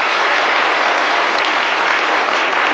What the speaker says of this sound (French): On peut applaudir très très fort